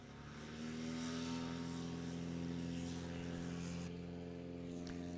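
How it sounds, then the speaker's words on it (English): Cessna 172 propeller plane taking off at Moses Lake, a steady, fairly faint engine-and-propeller drone heard from a distance, rising slightly at the start, with a commentator's voice faintly present. "Beautiful takeoff there from John."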